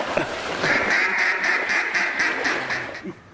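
Ducks quack during a duck hunt, a close, loud run of rapid rhythmic calls that pulses steadily for about three seconds with no talk.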